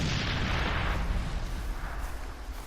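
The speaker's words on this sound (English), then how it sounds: "That was a grenade, and that was a big explosion." Grenade explosion in the Far Cry 2 video game, a loud, close blast with a dense roaring burst that tapers into a rumbling decay over a couple of seconds.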